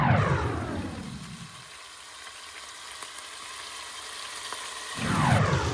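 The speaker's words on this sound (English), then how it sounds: "Just finishing up browning the last batch of meat" Chuck steak browning in a pan for German goulash, a steady close sizzle and crackle that thins out to a quieter hiss through the middle, then swells louder again near the end.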